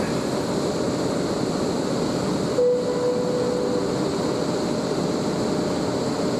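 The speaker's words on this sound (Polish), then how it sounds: "Pociąg TLK odjeżdża." A TLK train departs a station, rumbling steadily with a constant broad roar and a faint high whine, a continuous heavy mechanical noise with no talking.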